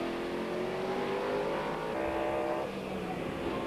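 TVR Tuscan race cars roar past on a circuit during a 1994 Tuscan Challenge race, a continuous high-revving engine blare that swells and shifts as the cars go by.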